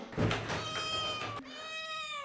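A cat meows twice, a long, loud, drawn-out cry with clear harmonics, followed by a shorter rising meow.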